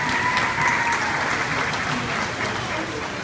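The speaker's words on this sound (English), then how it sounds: "Let's give them a round of applause." An audience applauds at a California sea lion show in a marine theater, with dense, loud, steady clapping from a large crowd that keeps an even level for the whole stretch.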